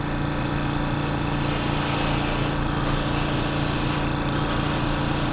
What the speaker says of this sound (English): This one I'm going to spray on a bit heavier.